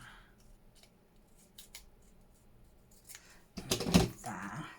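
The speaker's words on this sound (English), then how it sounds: "Let's just cut that across there a little bit." Scissors snip through paper packaging scraps in a few soft, close cuts, ending in a louder burst of crisp crunching paper near the end; no talk.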